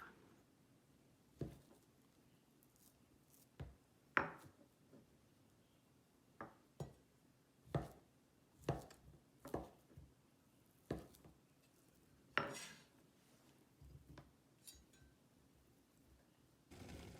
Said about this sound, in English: We cut the spam into strips and only need half.